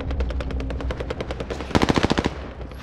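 A PPSh submachine gun fired from the hip in Warzone rattles off a rapid, steady stream of close, loud shots, finishing with a sharper, heavier burst before cutting off.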